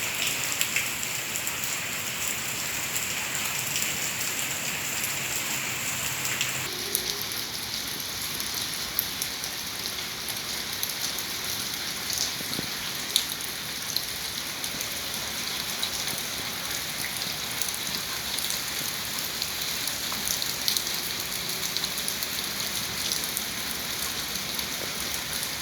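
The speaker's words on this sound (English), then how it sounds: "raining cats and dogs now" Heavy rain pours down steadily in South Florida, a dense continuous hiss of drops on surfaces that shifts slightly in tone partway through, with no voices.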